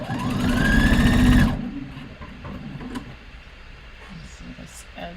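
A sewing machine stitches along a fabric edge, its motor whirring steadily for about a second and a half, then stopping; a quieter room tone with small handling noises follows.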